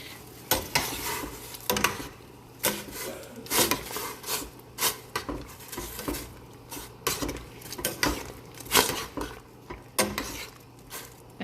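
A utensil scrapes and clanks around a metal pot stirring beef and broccoli, in an irregular rhythm, with faint sizzling underneath, close and fairly loud.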